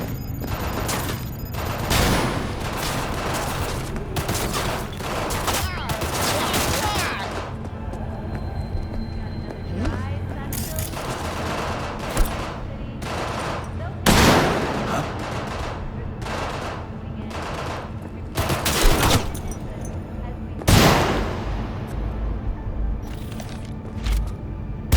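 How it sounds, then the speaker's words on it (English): Bursts of gunfire ring out in a Cyberpunk 2077 combat scene: repeated sharp shots and rapid volleys over a continuous game soundscape, with a few voices calling out in between. "I'm under fire!"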